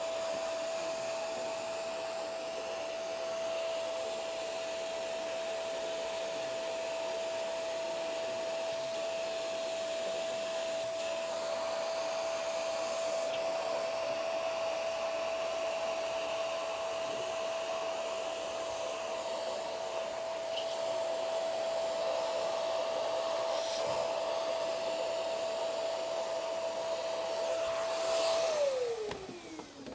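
A vacuum cleaner drones steadily and loudly while it lifts static grass fibres on an N scale model railway layout, with a high whine holding throughout and then dropping in pitch as it is shut off near the end.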